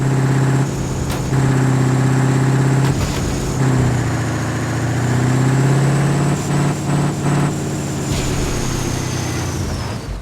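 Video-game bus engine driving on a mega ramp, a loud droning motor with a steady low pitch that dips and rises as it shifts, running continuously with a few brief bumps and clatters along the way.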